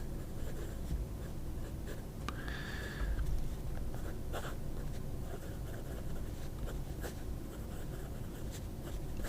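Fountain pen with a stub nib, just primed in water, scratches across paper in short irregular strokes, close and quiet against a soft room hiss.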